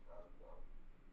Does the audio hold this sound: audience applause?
no